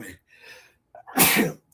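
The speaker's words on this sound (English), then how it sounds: "So you guys get me sneezing for the first couple of minutes" One loud, sharp sneeze from a person comes close up after a short soft intake of breath, with a faint breathy sound before it.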